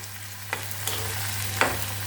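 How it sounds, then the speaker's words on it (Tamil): Egg being stirred into a tomato omelette gravy in a pan, with a steady low sizzle and a few soft scraping strokes of the spoon, close and alone. "முட்டையை போட்டுட்டு அப்படியே அந்த ஆம்லெட்டோடு அந்த முட்டையை போட்டு அப்படியே கிளறி வச்சுக்கணும்."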